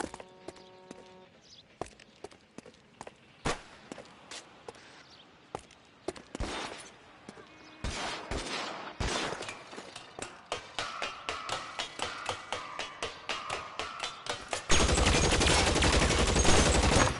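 Gunfire in the LA Noire video game: scattered single shots early on, then a rapid volley of repeated cracks in quick rhythm, ending in a loud sustained burst, with no talking.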